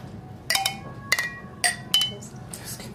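Beer glasses clinking together in a toast, four or five sharp ringing clinks spread over a few seconds with faint murmuring in the background.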